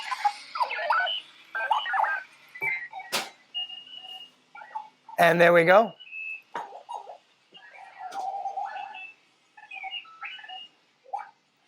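A Clocky alarm clock on wheels goes off with loud, electronic warbling chirps and beeps in irregular bursts, including one harsh buzzing blast, while a person speaks briefly nearby.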